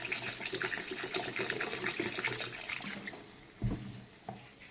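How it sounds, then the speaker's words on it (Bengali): Lukewarm water pours from a bottle into a curry simmering in a pan, a steady splashing, bubbling wash lasting several seconds with a soft thump near the end. "এখন আমি জল দিয়ে দেবো।"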